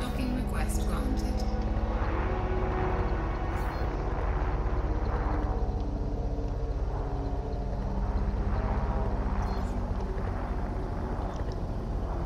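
In Elite: Dangerous, a spaceship docks and deploys its landing gear, giving a loud, steady engine rumble and low droning hum, with a voice speaking over it.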